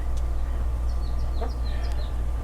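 Chickens cluck softly in a backyard pen, a few short scattered clucks over a steady low hum, with no talking.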